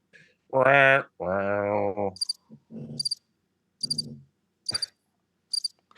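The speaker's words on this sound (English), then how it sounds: "So you had the crickets there the entire time." Crickets chirp as a sound effect in short, repeated high bursts spaced evenly apart, following a couple of loud, drawn-out vocal sounds at the start.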